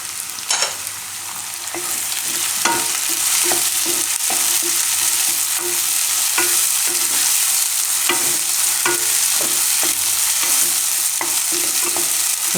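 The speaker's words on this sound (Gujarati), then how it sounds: "એમાં નાખી દઉં ટમેટા હવે" Tomatoes hit hot oil in a frying pan while tempering buttermilk rotli, producing a continuous loud sizzle broken by repeated metallic clinks and scrapes of a spoon stirring.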